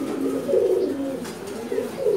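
Pigeons in a breeding loft coo steadily and close, a low throaty warble that swells and fades in overlapping rounds, with no voices.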